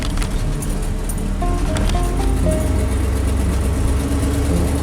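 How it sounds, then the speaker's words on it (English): Steady road traffic rolling past on a Sunday afternoon, a continuous mid-loud wash of car and engine noise with a low rumble throughout and no clear gaps between vehicles. "a lot of vehicles out here"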